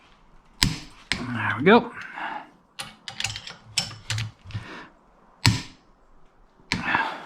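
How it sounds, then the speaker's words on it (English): Torque wrench ratcheting and clicking while tightening a spindle on a Cobra Daytona build, close irregular clicks and bursts of ratchet chatter with a brief spoken comment. "So now we will torque this down."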